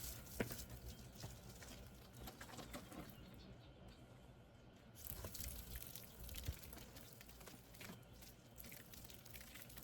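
Water sprinkles onto corn plants in a desert garden bed, a soft, steady patter and spatter of droplets on leaves and soil, faint and continuous, with no voices.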